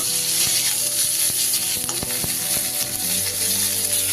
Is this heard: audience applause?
no